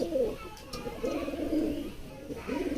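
Pet pigeons coo close by in low, throaty bursts, with two or three rolling calls over a few seconds against quiet background noise.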